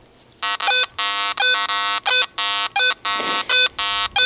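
A Garrett AT Pro metal detector with its iron audio switched on gives a rapid run of short, choppy electronic beeps that stop and start in a stuttering rhythm. Iron tones bleed through, and a brief burst of hiss cuts in near the end.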